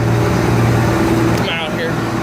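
A combine harvester engine idling to let the turbo cool, a steady low droning hum with a constant mechanical tone, close and loud, while someone talks over it.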